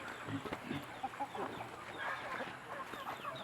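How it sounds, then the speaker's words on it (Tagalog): Several chickens cluck and chatter nearby in a busy, continuous jumble of short calls. "Mga manok."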